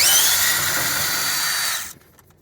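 A cordless power drill spins at high speed while backing screws out of a Raypak pool heater. It makes one steady, loud whine that runs about two seconds and then stops abruptly, with no one talking.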